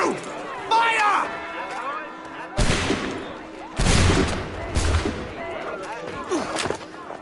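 A volley of musket fire aimed at redcoats cracks out in several loud bursts, spaced a second or so apart, amid shouting voices and battle commotion.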